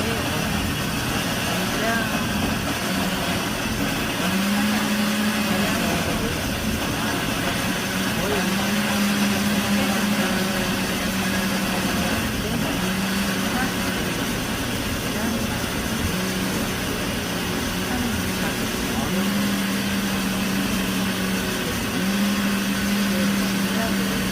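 A kitchen blender grinds water and seasoning ingredients for young radish kimchi, giving a continuous steady motor whir that runs the whole time at moderate, even loudness.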